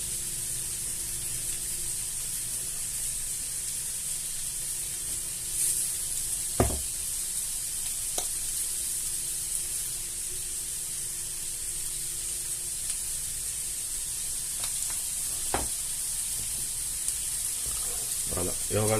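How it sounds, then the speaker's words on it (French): Carrots and onions sautéing in olive oil inside a Cookeo pot give a steady, soft sizzle and hiss, broken by a few sharp clinks of a utensil against the pot. "on va les laisser revenir pour prendre le goût des oignons, de l'huile d'olive"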